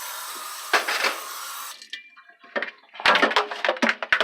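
Water runs from a tap into a cooking pot for a noodle stew, a steady hiss that stops and is followed by sloshing, splashing and knocks of the pot close by.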